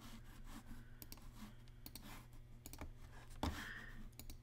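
Quiet, close typing on a computer keyboard, with irregular clusters of light key taps and a slightly louder clack near the end, without speech.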